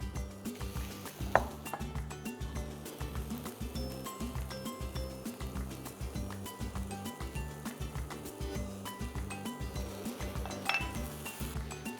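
Lamb mince and vegetables sizzle in a pan while a utensil stirs and scrapes, with steady clinks and metallic taps over a continuous frying hiss, close up.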